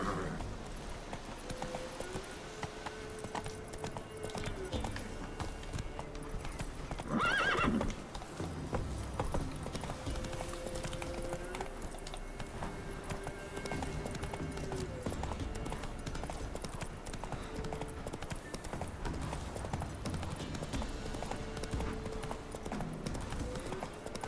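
Steady clip-clop of horse hooves trotting throughout with a brief neigh partway through, all over a dense, busy background of game ambience in The Witcher 3: Wild Hunt.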